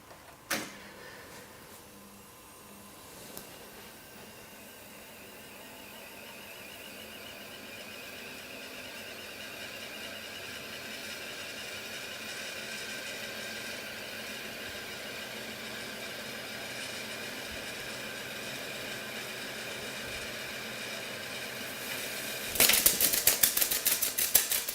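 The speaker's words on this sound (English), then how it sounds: "I'm going to rewind and intentionally let the tape come off the end of the spool" Revox B77 MkII reel-to-reel tape deck rewinding, a faint whirring hiss that slowly builds in pitch and level, ending with a louder fluttering slap as the tape runs off the end of the spool.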